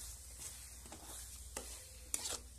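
Boiled egg being stirred into egg bhurji in a pan, a quiet steady sizzle broken by a few soft scraping strokes of the spatula and one sharper clink near the end.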